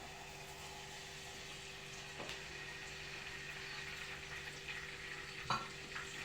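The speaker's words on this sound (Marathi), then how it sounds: "जिरे मोहरी थोडी तडतडली" Faint, continuous sizzling and crackling of cumin and mustard seeds spluttering in hot oil, with a couple of small sharp pops.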